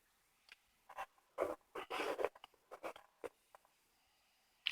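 Paper banknote being folded into an origami heart, with a series of close, crisp paper rustles and creases in short bursts separated by brief pauses.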